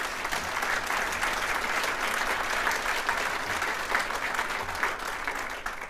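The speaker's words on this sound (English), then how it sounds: "So we should give her a big round of applause." Audience applause at a political event, sustained clapping from a sizable crowd holding steady throughout and tapering slightly at the end, with no speech over it.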